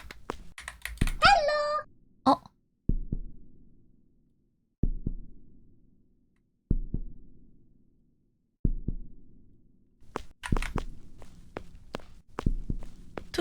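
A heartbeat in a horror video game marks the player's stamina, with slow, evenly spaced low thumps repeating throughout, some louder clicks and noises near the start and end.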